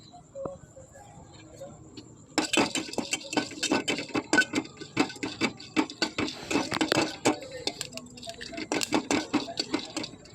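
Dried red chillies, cinnamon, cardamom and cloves dry-roasting in a pan, with dense crackling and rattling that starts abruptly and runs continuously, lightly stirred, close up with no talking.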